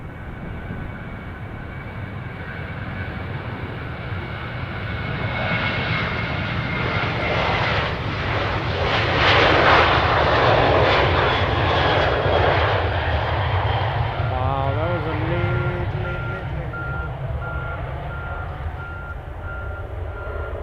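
A Jazz airliner landing on runway 20 roars as a steady jet engine rumble that swells to a loud peak mid-pass and slowly fades, with a high whine sliding across the noise and no voices.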